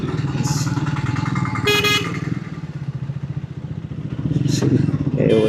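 Motorcycle riding through traffic near an army AOC centre in a defence area, its engine droning steadily up close while other vehicles honk briefly in the background; a voice talks over the engine.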